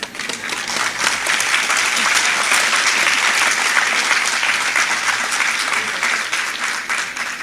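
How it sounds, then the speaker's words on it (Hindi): Audience clapping at a public speech launching an anti-drug campaign in Sirsa, a dense, steady round of applause from a crowd in a room, loud and continuous throughout. "ये तालियां तो ऐसी हैं जैसे कि मृत व्यक्ति बजाते हैं"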